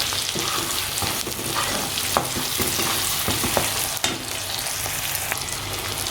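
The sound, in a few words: onion and garlic sautéing in a pan for fish curry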